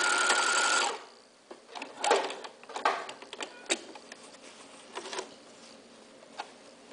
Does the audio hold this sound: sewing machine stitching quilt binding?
yes